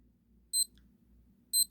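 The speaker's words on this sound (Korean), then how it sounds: "누르면 이렇게 소리가 나는 기능이 있는 시계이고요" A wristwatch beeping when a button is pressed: two short, bright electronic beeps about a second apart, close and clear over faint background hum, no voice.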